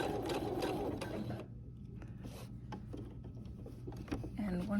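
A sewing machine stitches a crossbody bag with a rapid, close mechanical whirr that stops after about a second and a half. Scattered clicks and handling noises follow, then the machine starts again briefly at the end.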